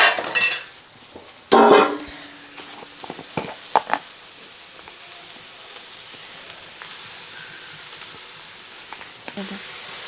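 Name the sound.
stirring spinach in a full pan with a spoon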